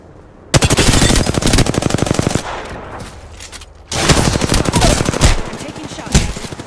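Rapid automatic gunfire in the video game Apex Legends, two loud close bursts of fast repeated shots separated by a short pause.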